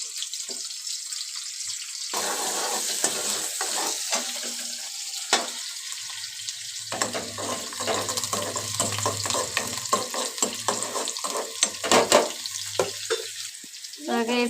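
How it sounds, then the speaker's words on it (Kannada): Chopped onion and green chili fry and get stirred in hot oil in a home kitchen. A continuous close sizzle runs throughout, with frequent scraping and clinking stirring strokes on top. "ಈರುಳ್ಳಿ, ಮೆಣಸಿನ್ಕಾಯಿ ಹಾಕಿ ಚೆನ್ನಾಗಿ ಫ್ರೈ ಮಾಡ್ಕೋಬೇಕು."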